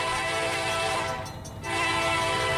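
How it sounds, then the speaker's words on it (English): CSX freight locomotive in a Roblox game rolling past with a sustained, loud horn blast over rumbling wheels, briefly dipping in the middle before the blare resumes. "here comes that train"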